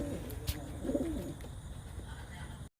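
A racing pigeon back home after a 150-mile race gives a soft, low cooing call, fairly close, over light background noise with a brief knock near the start.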